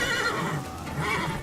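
A horse in The Witcher 3 lets out one sustained neigh, loud and close, with a faint rattle underneath.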